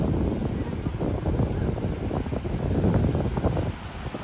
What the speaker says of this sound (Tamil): நல்ல ஒரு காற்று பாகா பீச்சில் வந்து